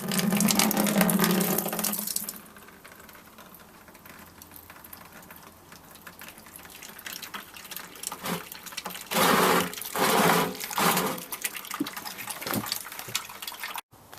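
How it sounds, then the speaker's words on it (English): Beer wort draining from a boiler into a plastic fermentation bin: a loud gushing pour at first, then quieter trickling and splashing that swells in bursts of rushing liquid near the end. "Time now to transfer from the boiler to the primary fermentation bin."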